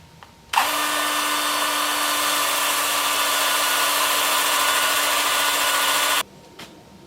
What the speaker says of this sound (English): with my 2-inch sanding disc